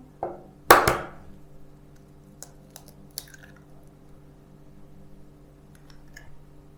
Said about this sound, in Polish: Wbijamy do miski jedno jajko.